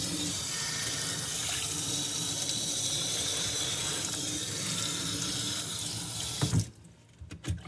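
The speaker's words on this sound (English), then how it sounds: "maybe I should shut the water off" A sink tap runs with a steady, full rush of close water that stops abruptly near the end, leaving a few faint drips and clunks.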